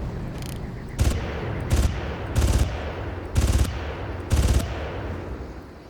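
Gunfire in the video game Far Cry comes as five sharp, booming bursts spaced about a second apart, each a short heavy volley, loud and close over a low background rumble.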